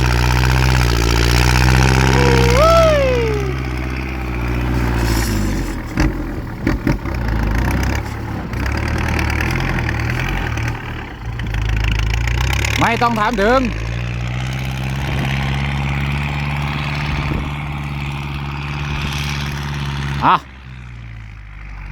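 A Kubota L5018 small tractor engine labouring under load while pushing a heavy heap of soil, a loud, steady diesel drone close by with rising revs at moments, and someone talking over it.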